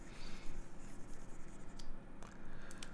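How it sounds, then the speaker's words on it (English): Close, continuous rubbing of an eraser wiping out writing during a maths lesson, a steady scratchy scrub with a few brief sharper strokes and no talking. "let me just erase the unnecessary thing first"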